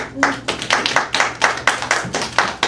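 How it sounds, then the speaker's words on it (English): A school class claps hands in a fairly steady rhythm, many sharp claps in quick succession, close and lively. "We forgot to applause for Damien."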